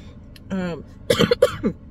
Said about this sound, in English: I got a slight cough too, so y'all bear with me.